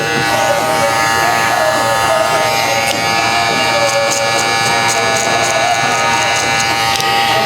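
Electric hair clippers cutting a low fade haircut, worked with the corner of the blade against the hair's growth: a steady, close, continuous motor buzz holding an even pitch throughout.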